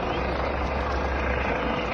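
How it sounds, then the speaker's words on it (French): A helicopter flies overhead, dropping gas on protesting farmers at a livestock-culling standoff in Ariège, France. The rotor gives a steady, loud, dense roar with no break, and voices blend into the noise. "Les agriculteurs reçoivent du gaz projeté par l'hélicoptère sur place."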